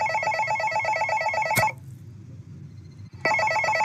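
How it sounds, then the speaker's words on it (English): A telephone rings loudly in a phone box, a steady electronic trill that cuts off abruptly, leaving near silence before the ringing resumes. "When you hear the phone ring, you gotta go answer the phone."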